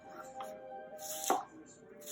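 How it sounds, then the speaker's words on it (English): A knife chops an onion on a cutting board in a few soft, uneven strokes, close but fairly quiet, with a faint tonal hum in the background. "So I'm just gonna cut this onion up like so."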